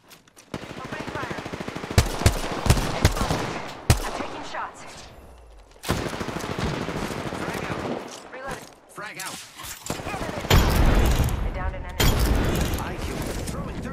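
Rapid automatic gunfire from Apex Legends comes in dense loud bursts with sharp gaps between them, and a player talks over the shooting.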